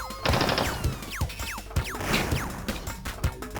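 Rapid bursts of enemy gunfire ring out in Crash Bandicoot 2 N-Trance, sharp repeated shots with whooshing projectiles and impacts crowding a few seconds of busy game action.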